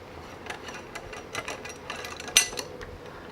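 A 10mm T-handle wrench turns out a bolt holding a charcoal canister on a Honda CRF 450L motorcycle, quiet close clicks and scraping metal taps in an irregular series, with one sharper click near the end.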